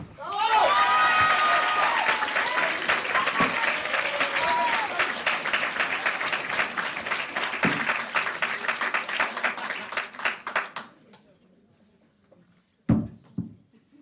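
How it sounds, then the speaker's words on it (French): An audience at a French eloquence contest applauds loudly to welcome a speaker, with a voice heard over the clapping at the start, the dense applause thinning and stopping after about ten seconds, followed by a few isolated knocks. "Je vous demande donc d'accueillir en applaudissant bien fort Mathilde."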